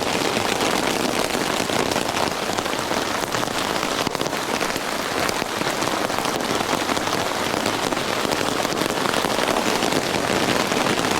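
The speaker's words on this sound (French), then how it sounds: "Il pleut à torrent." Heavy torrential rain pours down steadily on a tent near the Col de Vars, a dense, loud hiss of drops drumming on a surface without letup.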